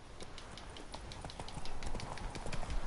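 Roach the horse in The Witcher 3 trotting with rhythmic clip-clopping hooves, close and steady, growing a little louder as the gait picks up, over a faint ambient background.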